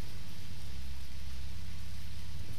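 Steady rain in the Deadly Premonition video game, a soft, even hiss with a low rumbling bed that runs unchanged from start to finish, fairly quiet and without voices.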